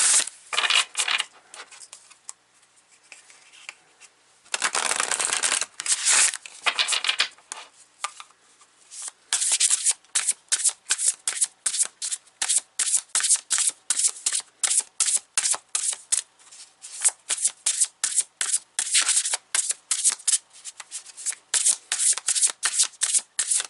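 Oracle cards from a 7 Energies Oracle deck shuffled by hand close up, a long run of quick riffling and flicking bursts with short pauses between them, no talking.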